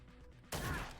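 Gunshot in the tactical video game Cyber Knights: Flashpoint, one sudden loud blast about halfway through that cuts in sharply and rings on as a dense noisy burst after a quiet lead-in.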